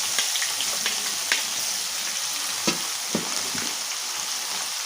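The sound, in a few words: sliced onion sautéing in oil with fenugreek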